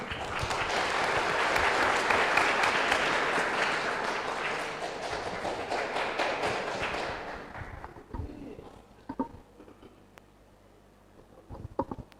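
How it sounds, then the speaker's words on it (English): An audience at an English public speaking contest applauds a contestant, a full wash of clapping that swells, holds for several seconds, then fades to scattered claps and quiet room noise. "Please welcome her with a big round of applause."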